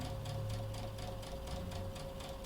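A sewing machine stitches a fabric bunny bag in a fast, steady, close mechanical rattle with a faint underlying whine, running continuously with no talk.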